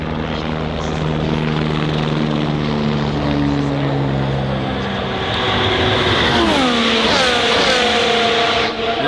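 A Formula 1 car roars past nearby at a race, its high engine pitch climbing and then sweeping down as it passes, loud over a steady background rumble with crowd noise.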